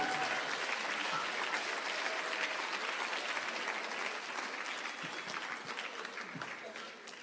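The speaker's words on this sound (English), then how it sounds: "giving your teachers a round of applause for Teacher Appreciation Week" A school assembly audience gives a long, full round of applause for teachers during Teacher Appreciation Week, dense clapping that runs steadily for several seconds with voices and cheers mixed in, easing slightly at the end.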